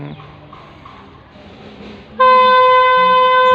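A diesel railcar train reversing into a station platform, with a low rumble of the engine giving way to a loud, sustained multi-tone horn blast that continues to the end.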